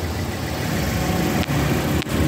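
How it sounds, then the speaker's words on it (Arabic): Toyota car engine idling steadily, a continuous low rumble with no revving, heard alone at close range. "هسه شغالة السيارة، لا حصو ولا صوت ولا نفس"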